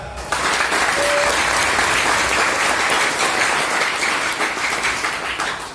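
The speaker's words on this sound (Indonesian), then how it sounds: "Tepuk tangan." Crowd applause at a mosque gathering celebrating Indonesian independence, dense continuous clapping that starts abruptly and holds loud and even, easing slightly toward the end.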